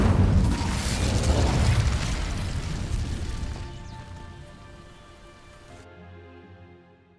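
An Incendio fire spell in Hogwarts Legacy sets dry vines alight with a loud, roaring, crackling burst that thins out over several seconds, leaving soft tonal music.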